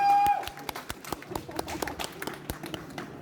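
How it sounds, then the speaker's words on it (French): Light, sparse clapping from a small convention audience rewarding a correct quiz answer about Resident Evil, individual claps audible and fairly faint after a brief tone at the start. "Exact, madame, on peut l'applaudir"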